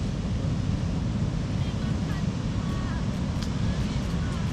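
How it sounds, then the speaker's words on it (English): Ocean surf and cold wind on the Skeleton Coast make a steady, broad roar with gusty buffeting against the microphone. The sound stays even throughout, with no voices. "Getting some fresh cold breeze from the ocean."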